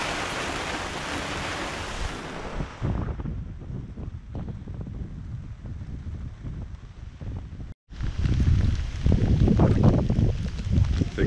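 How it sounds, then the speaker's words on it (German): Wind and rain batter a sailboat riding at anchor in stormy weather. A loud, continuous roar and rush of wind and spray holds throughout, briefly drops out once, then surges back even harder. "Oh, der Wind hat wieder ein bisschen zugelegt und der Regen auch."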